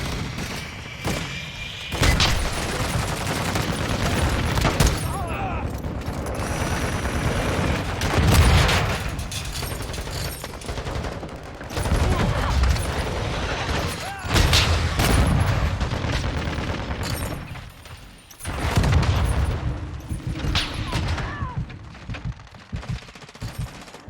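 Gunfire in Call of Duty Modern Warfare 2, long loud bursts of machine-gun fire mixed with booming explosions and thuds, sustained for most of the stretch with a few brief lulls between volleys.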